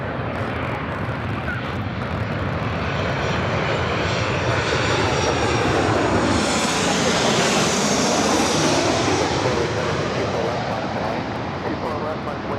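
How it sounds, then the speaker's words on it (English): A Delta Airlines Boeing 737-800 arriving from Seattle at Los Angeles LAX roars loudly and steadily throughout, its engine noise building and sweeping as the jet passes close by, with no talk over it. "This arrival is Delta Airlines 2769 coming in from Seattle on the 737-800."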